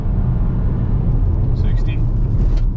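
A 2022 Chevy Equinox RS turbo accelerates hard from a standstill, its engine a steady, loud rumble heard from inside the cabin, with a voice talking over it.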